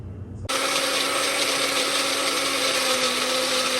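An electric blender starts abruptly and runs steadily at high speed, grinding herbs with ginger-garlic paste into a thick paste for a green chicken karahi; loud, continuous whirring with a constant motor whine and no talking.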